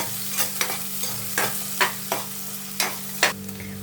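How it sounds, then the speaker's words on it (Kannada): Onions frying in hot oil in a pan for a mixed-vegetable palya, with a steady close sizzle and repeated scraping stirs of a spoon at irregular intervals, and no talking. "ಆಯಿಲ್ ಕಾದಿದೆ. ಆನಿಯನ್ ಹಾಕೋಣ. ಆನಿಯನ್ ಸ್ವಲ್ಪ ಫ್ರೈ ಮಾಡ್ಕೊಳ್ಳೋಣ."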